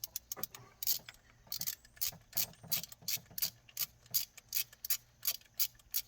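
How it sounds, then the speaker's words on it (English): A small ratchet with a 15 mm deep well socket runs bolts in during a 2004 Dodge Ram 1500 alternator replacement, giving rapid bursts of close metallic clicking in an uneven rhythm. "deep well socket. Little ratchet. Get them things run in there."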